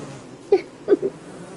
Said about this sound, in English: No, bees! Not bees! So many bees!